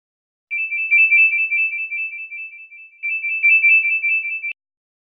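A phone ringtone plays as a clean, loud electronic melody in two bursts of about two seconds each, separated by a short gap, with no other sound behind it.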